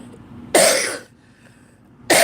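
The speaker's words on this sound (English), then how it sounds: "I'm not having a shortness of breath now that I'm coughing" A person recovering from the flu coughs: one harsh, close burst, a short pause, then the start of another.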